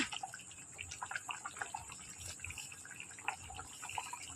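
A pan of chicken ball curry bubbles steadily on the stove, a continuous close simmering and popping texture with faint background hiss and no talking.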